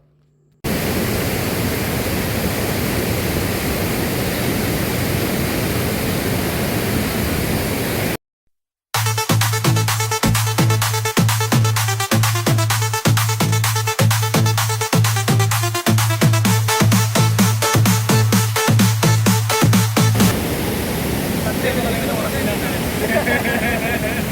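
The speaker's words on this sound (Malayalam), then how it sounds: "ഇപ്പോൾ നാം പ്രവേശിക്കുന്നത് സീതാർകുണ്ട് വെള്ളച്ചാട്ടത്തിലേക്കാണ്" Rushing water at Seetharkund waterfall near Kollengode, a steady broadband roar filling the first several seconds before music takes over.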